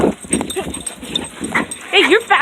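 Dogs, including a Rottweiler and a dachshund, chase someone outdoors, with yapping barks breaking out repeatedly amid scuffling movement while a person talks excitedly over them.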